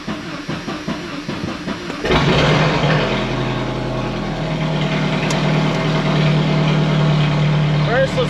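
A Jeep Cherokee XJ engine cranks and catches after a revival, settling into a steady, loud idle that runs on close by while someone talks over it.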